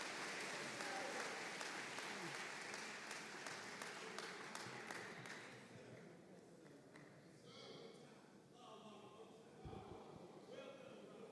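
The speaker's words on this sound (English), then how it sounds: "Let's give another warm round of applause" An audience at a Boston gathering applauds loudly, dense clapping that gradually thins and fades, with voices over the tail.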